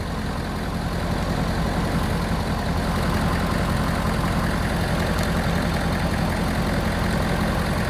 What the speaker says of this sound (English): the diesel will run by itself without any batteries hooked up, just off of the alternator